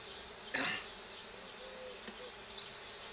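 Honeybees buzzing inside an opened beehive during a hive inspection: one brief louder swell of buzzing near the start, then a steady faint hum.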